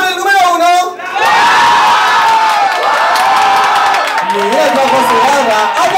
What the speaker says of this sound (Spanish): ¡Aplauso por el número 1!